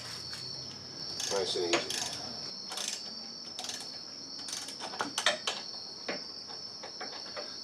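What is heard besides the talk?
ratchet slowly turning a bolt into a truck hub assembly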